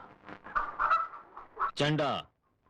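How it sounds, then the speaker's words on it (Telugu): In a Telugu film scene, a chicken lets out a short, sharp squawking cluck right after a voice speaks. "బాబు గోర్కా, కొంచెం కోడిని కొచ్చి పెట్టరా."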